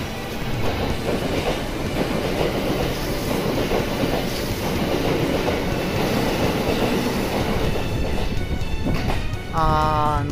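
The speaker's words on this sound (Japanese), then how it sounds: "今から五移動行きの普通列車だと思うんですけど、適当に止まっている普通列車に乗り換えます。" A local train at Kawachi-Yamamoto station rumbles steadily with wheel clatter and rail noise throughout, loud and close, with a brief brake squeal near the end.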